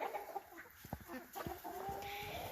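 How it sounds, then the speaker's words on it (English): Pet backyard hens, among them a red hen, cluck in a few short, soft, irregular calls, heard fairly close but quiet. "And Speedy is my red hen right there."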